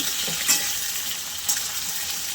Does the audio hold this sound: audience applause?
no